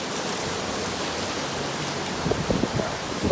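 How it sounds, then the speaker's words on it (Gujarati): Heavy rain pours down in a steady, hissing wash, with a few duller thumps of drops or splashes near the end and no talking. "મસ્ત વરસાદ છે"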